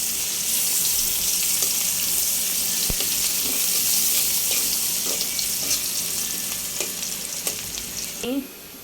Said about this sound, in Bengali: এখন পেঁয়াজ দিয়ে দিলাম, এটা দিয়ে আমি এখন তরকারি রান্না করে ফেলবো এই তেলে।